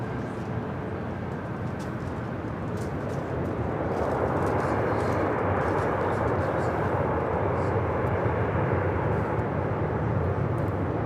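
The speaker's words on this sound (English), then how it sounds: "This arrival is Southwest 2419 coming in from Honolulu on the MAX 8." A Southwest Boeing 737 MAX 8 arriving from Honolulu gives a steady, distant jet roar that swells and grows louder over the last half. It is heard outdoors alongside faint bird chirps.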